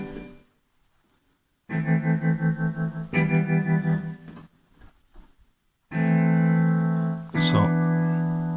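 Yamaha PSR-E463 keyboard with its tremolo effect switched on, sustained chords pulsing in a steady rapid wobble across two held phrases, loud and close with short gaps between, no talking.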